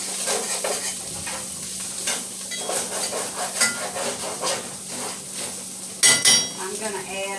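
Sautéed onions and celery with spices sizzle in a pot for a stew while a spoon stirs and scrapes, steady and close, with two sharp metallic knocks near the end.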